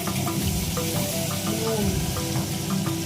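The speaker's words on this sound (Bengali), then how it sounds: "উচ্ছে ভাজা" Bitter gourd slices sizzle in oil in a pan, a steady, close frying hiss with faint clinks and bubbling running throughout.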